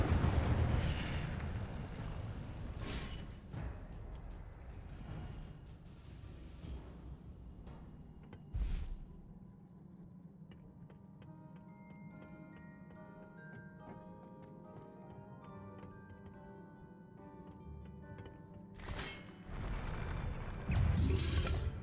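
Incendio fire spell cast in Hogwarts Legacy, with bursts of blasting impact and whooshing effects at the start and end around a quieter stretch of tonal game music and ambience.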